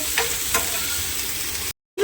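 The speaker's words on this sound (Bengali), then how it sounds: "আমি এই মশলাগুলো সব দিয়ে দেবো, এর মধ্যে ভেজে নেবো একসাথে একটু হালকা" Onion and spices fry lightly in a pan for paneer butter masala, giving a steady close sizzle broken by a few stirring scrapes before it cuts off abruptly near the end.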